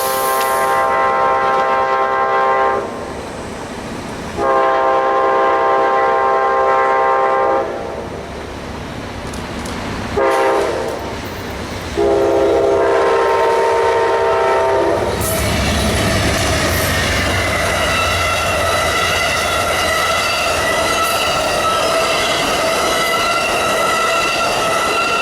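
Amtrak's Silver Meteor passenger train roars past southbound close by on the CSX A Line near Jacksonville, a loud steady rumble of wheels with a sustained horn blast sounding in bursts before the cars rush through.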